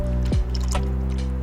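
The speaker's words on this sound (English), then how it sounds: "So I'm gonna go ahead and add the activator" Primer activator poured into a mixing cup: a brief liquid drip and trickle against a steady background hum, close and fairly loud.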